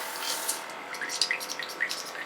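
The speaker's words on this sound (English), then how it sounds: "this is called back bubbling, when you just put your finger over just the top and kind of pull that" An airbrush back bubbling to mix paint colors, rapid soft bubbling and gurgling pops over a constant airy hiss, close and moderately loud.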